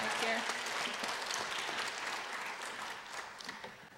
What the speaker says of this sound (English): Please shake or clap your hands for Darrell.